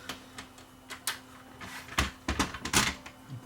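Small plastic clicks, taps and scrapes from taking the display board out of a Sony BDP-S350 Blu-ray player, close and irregular with a few sharper snaps, quiet, no talking.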